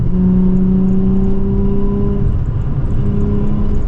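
A Nissan 350Z engine hums steadily at about 70 mph with a low road rumble and whir, continuous and fairly loud throughout.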